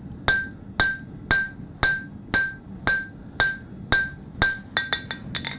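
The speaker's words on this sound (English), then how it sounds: "I'm hammering gradually coming back this way." A steel knife blank being hand-forged with a hammer on an anvil: about a dozen sharp ringing metallic blows at a steady rhythm, loud and close, speeding into quicker, lighter taps at the end, with no voices.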